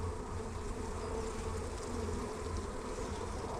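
Honeybees buzz in a steady, dense drone at an open hive during a farm inspection, with bees fanning on the frames; the hum stays close and continuous throughout, with no voices.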